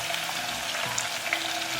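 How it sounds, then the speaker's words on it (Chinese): Cinnamon, star anise, Sichuan pepper and fennel seeds fry over low heat in oil with ginger slices and scallion pieces, giving a steady close-up sizzle with light crackles and no voices. "放入桂皮、八角、花椒、小茴香，还有1个炒果，一点点姜片、葱段，小火炸香。"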